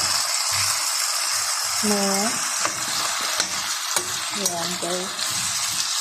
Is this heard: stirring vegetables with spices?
yes